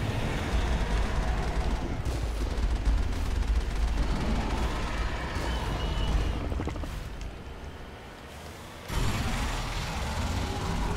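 The Mako vehicle fires its weapons in the Mass Effect video game. A dense, continuous barrage of booming, mechanical gunfire runs throughout, with a short dip in loudness near the end before it resumes.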